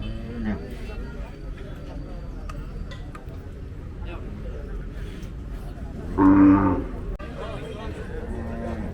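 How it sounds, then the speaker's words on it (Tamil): A single cow gives a loud, drawn-out moo at a busy native cattle market, rising briefly over a background of people talking and crowd chatter. "இந்த மாடு யாருது?"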